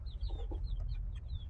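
A rooster clucks in short, repeated bursts against a steady low background rumble.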